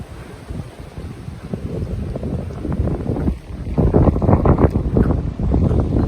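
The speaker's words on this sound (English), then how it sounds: "I don't know if you can hear that, but it's a spot windy." Strong gusting wind buffets the microphone on a hilltop in the South Downs during Storm Dennis, a loud continuous roar and rumble that builds and surges in waves.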